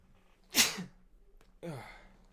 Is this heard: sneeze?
yes